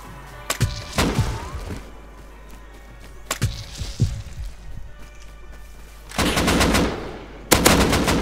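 Bursts of AK rifle fire in the video game Rust, sharp repeated shots in rapid clusters with gaps between, the heaviest sustained volleys near the end, loud and close, no talk.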